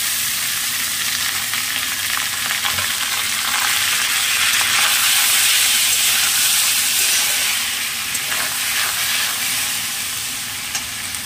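Gobindobhog rice sizzling in hot fat with cashews, peanuts, raisins, cardamom, cinnamon and bay leaf for pulao, a steady close frying hiss with faint stirring scrapes throughout.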